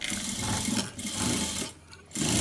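An electric sewing machine stitches blouse sleeves in quick, rhythmic bursts, its close mechanical whirring pausing briefly twice before running again, with no talking.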